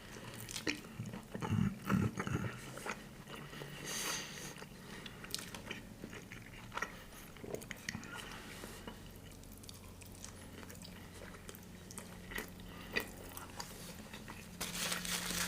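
Close, wet chewing and biting of a Mexican breakfast seasoned with cumin, with soft crunches and squishy mouth sounds repeating steadily, a few louder bites near the start, no talking.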